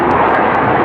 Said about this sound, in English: Hell yeah, just 4 jets just flew through here.